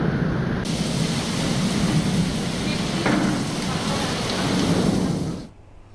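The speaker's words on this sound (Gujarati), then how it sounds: "વીજળીના કડાકા ભડાકા સાથે" Heavy rain pours steadily during a thunderstorm in Gujarat, a dense continuous roar with a faint rumble in the middle, before the sound cuts off abruptly near the end.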